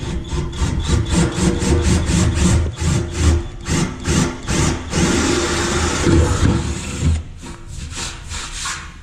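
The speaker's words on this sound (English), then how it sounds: "let's go ahead and keep making this hole bigger" A rasping, scraping tool enlarges a hole in a Scion tC body panel for a Rocket Bunny widebody kit, rhythmic back-and-forth strokes close up and loud, pausing briefly, with no talk.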